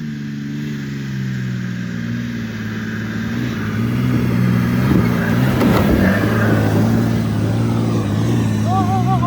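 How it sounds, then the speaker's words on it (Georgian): An off-road SUV's engine drones and pulls harder as it drives along a forest road in a national park, a steady close hum that rises midway, with faint voices inside. "მანქანის ხმაც ხელს უწყობს."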